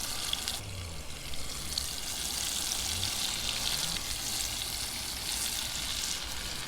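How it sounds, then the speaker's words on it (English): Bluegill fillets sizzle and crackle steadily in hot oil in a pan, a constant close frying hiss with a low background rumble. "There's nothing like frying up some bluegill on a cold day"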